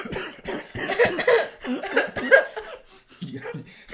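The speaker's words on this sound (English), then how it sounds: "Cough like the old people." A person fakes a series of exaggerated coughs in the style of an old person, short rough bursts mixed with chuckling, close and fairly loud.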